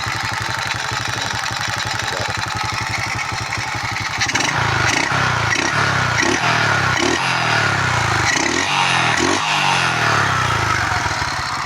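A motorcycle engine runs after its CDI was repaired, idling with a rapid, even putter, then a clatter and rhythmic metallic knocks and revs that come in several pulses over the steady, loud engine drone.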